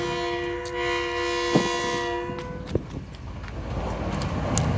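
A train passes on a railway line, sounding a loud, steady multi-tone horn for about two seconds before it breaks off, leaving the close, continuous rumble and clatter of the rail cars.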